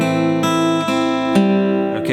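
Guitar slowly picking the House of the Rising Sun riff, separate plucked notes spaced about half a second apart with strings ringing between them, close and unaccompanied.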